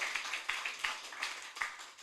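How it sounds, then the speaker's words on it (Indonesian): A church congregation clapping, a fairly quiet run of repeated claps at a steady pace, heard from a distance in a large room. "Berikan tepuk tangan yang meriah buat Allah kita."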